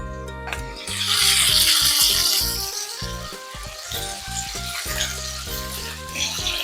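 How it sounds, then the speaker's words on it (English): Pork belly sizzles steadily in a hot pan as it is seared for keto ramen, a close, dense frying hiss that swells and settles over a layer of background music, with no talking. "I'm gonna be pan searing some pork belly to go in our ramen."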